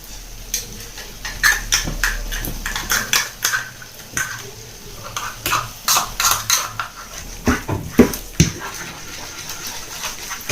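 Tuna being stirred into a tomato mixture in a pan on the stove, with a string of sharp, irregular clinks and scrapes of a utensil against the pan, close and fairly loud, and no talking.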